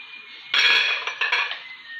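A spoon scrapes and clinks against a pan while carrots, beans and coriander are stirred together, with a few short metallic scrapes close by and a faint hiss underneath.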